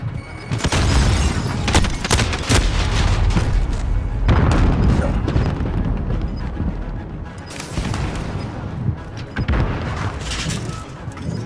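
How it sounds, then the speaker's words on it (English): Grenade blasts go off in a Call of Duty match as a string of heavy booms. Bursts of gunfire and clattering battle noise fill the gaps, and the sound stays loud and dense throughout. "Grenade out!"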